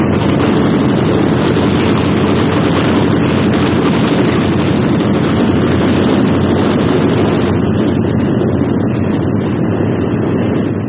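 World War II bomber aircraft engines roar steadily, a loud, constant droning wash of noise with no break and no talking.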